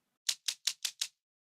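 Computer keyboard keys are pressed five times in quick, evenly spaced succession, each a crisp isolated click against silence.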